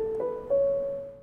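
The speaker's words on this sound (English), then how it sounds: "On the soft piano, it sounds like this." Soft piano from a song arrangement, where it accentuates noodling guitar lines: a few gentle sustained notes, quiet and mellow, the second note entering around halfway and ringing out slowly with no voices.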